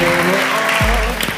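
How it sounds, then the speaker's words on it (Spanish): An audience claps briefly and loudly, with a voice speaking over the applause and a short low thump near the end. "Fuerte el aplauso."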